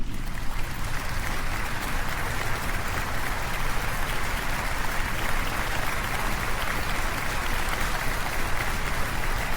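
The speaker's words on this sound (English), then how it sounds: "Let's give Dante a round of applause" Dense applause from an audience honoring Dante at a formal ceremony, steady and continuous throughout, loud and full like a large crowd clapping at once.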